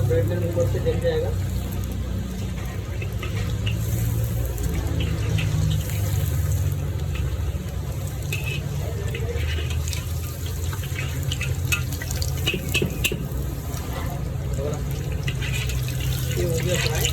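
Cheese deluxe chicken pieces frying in hot oil for an iftar snack: a continuous, close, crackling sizzle that holds steady throughout.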